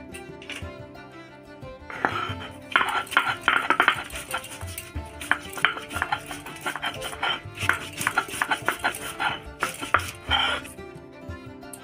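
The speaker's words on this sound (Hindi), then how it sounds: "इतना अदरक पीसेंगे सिलपट्टे में।" Roasted ginger ground on a traditional Indian sil-batta stone grinding slab for a Bengali fish curry, with repeated scraping and knocking strokes in an irregular rhythm, close and moderately loud, starting after a short quiet stretch and pausing briefly near the end.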